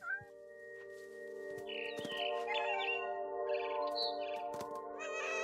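Birds chirp and tweet in the video game What Remains of Edith Finch, bright repeated calls layered over a sustained musical drone, with several overlapping bursts rising and falling throughout.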